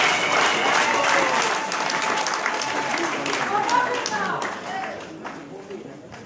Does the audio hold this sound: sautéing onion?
no